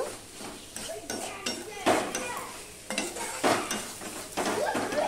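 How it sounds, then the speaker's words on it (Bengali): Okra stir-fried and mixed in a pan for a Bengali bhindi dish, with repeated scraping and clattering strokes of a spatula against the metal over a steady sizzle, close and fairly loud, in uneven bursts throughout. "দেখো সম্পূর্ণটা মিশিয়ে নিয়ে আমার কষানো হয়ে গেছে"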